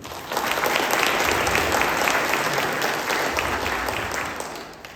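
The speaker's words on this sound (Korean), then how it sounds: "큰 박수 부탁드립니다" An audience at a company all-staff meeting claps loudly and continuously after a CEO lecture, a dense, steady wash of applause that fades slightly toward the end.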